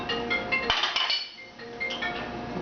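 Black beans, mushrooms, onions and spinach are stirred together in a pan, with a run of close metallic clinks and scrapes of a utensil against the pan, irregular and fairly quiet, with no talk.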